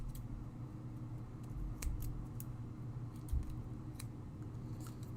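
Scissors snipping through Brutus Monroe foam squares that have release paper on both sides, a few crisp close cuts spaced over a steady low room hum, with no voices.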